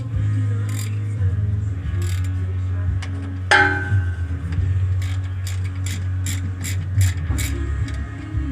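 Ratchet wrench working out the bolts on a 1973-87 Chevy pickup rear axle cover, quick repeated clicking bursts and a metallic clank over a steady low hum in a garage.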